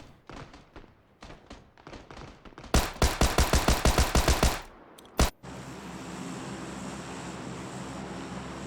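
A Tommy gun fires a rapid, evenly spaced automatic burst in PlayerUnknown's Battlegrounds. Lighter taps and one heavy thump come near it, then a steady background rumble takes over.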